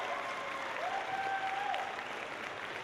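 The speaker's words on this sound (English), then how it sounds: "Give them a big round of applause" Crowd applause during opening ceremonies at a 2016 FIRST robotics district event in Indiana, a full, steady roar of clapping with a thin whistle-like tone sliding through the middle.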